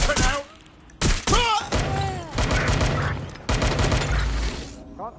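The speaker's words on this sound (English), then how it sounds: "Shots fired! Right, weapon out!" Gunfire in a PS4 video game, with bursts of shots and heavy thuds mixed into loud game effects, while in-game voices talk over the action.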